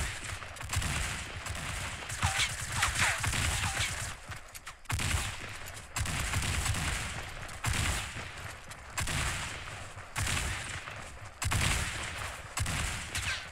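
Shotgun blasts in Fortnite Season 4 fire repeatedly over dense, loud game noise, with bursts recurring every second or so across the stretch and brief gaps between volleys.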